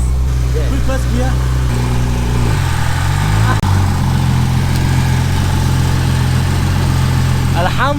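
A 700bhp Nissan Skyline R33 engine idles and revs steadily with a new clutch as gears are shifted, the steady low drone stepping in pitch between gears, while voices talk over it throughout.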